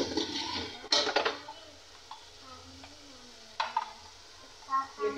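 Dry spices, including red chilli, ground coriander and turmeric, go into a hot pan of aloo chicken and are stirred, producing soft sizzling with scraping spoon clatters and a few metallic knocks against the pan.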